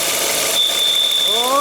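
A Peugeot 408 engine runs with a misfire, giving a rough, uneven mechanical note under a rising high whine that holds steady while pitch-sliding tones creep upward near the end, close and loud.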